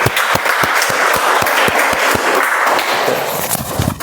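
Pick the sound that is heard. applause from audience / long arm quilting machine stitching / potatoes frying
applause from audience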